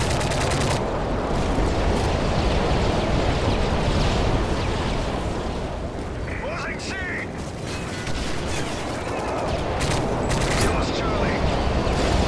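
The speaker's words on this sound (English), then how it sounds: "Friendly Predator missile inbound." Constant rapid gunfire and dense mechanical clatter of a Call of Duty Modern Warfare 3 multiplayer match, with steady loud shooting throughout and a radio-style voice heard under the din.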